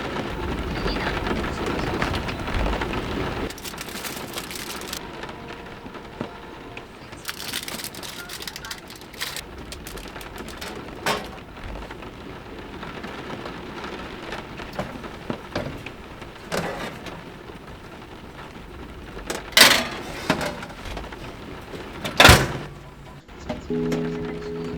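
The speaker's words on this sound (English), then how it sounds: "The storm has been crazy." Heavy rain and strong wind, gusting up to 50 mph, batter a camper van on the Isle of Skye. A dense roar of rain continues throughout, broken by louder buffeting gusts and sharp thumps on the van body.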